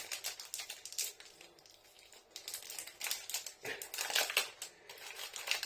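Crinkly plastic wrapper of a Milkybar Fairy Lights white chocolate being handled and pulled at, close and busy with irregular rustling bursts growing denser toward the end.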